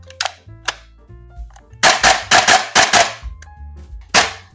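FN SCAR-L MK2 gas blowback airsoft rifle firing: sharp, loud, close reports, first two single shots, then a quick cluster of five or six, then one more, each with a metallic clack.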